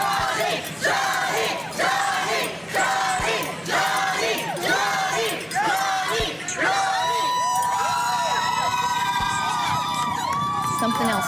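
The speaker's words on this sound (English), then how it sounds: "as the verdicts are being read, the crowd, of course, is listening, and they start cheering" An outdoor crowd cheers and shouts loudly as the Johnny Depp verdicts are read, with repeated swelling waves of whoops and screams, then a sustained roar of voices near the end.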